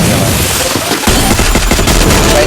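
Rapid, loud automatic gunfire from the Free Fire video game, delivered in dense bursts with a brief pause near the middle before the shooting resumes.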